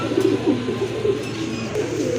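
A pair of Afsan Grizzle pigeons coo softly and repeatedly nearby, low rolling calls over a steady background hum.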